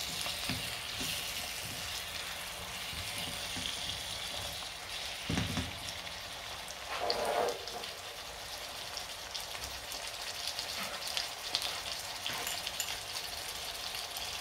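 Prawns sizzle and fry in a hot pan while being stirred, a steady crackling hiss with a few clunks and scrapes from the stirring, up close and with no talk.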